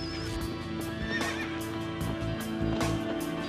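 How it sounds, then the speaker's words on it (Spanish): Herd of wild horses roaming a coast, several loud close neighs and whinnies overlapping with rhythmic hoof clip-clop running throughout. "por la costa merodea una manada de caballos salvajes"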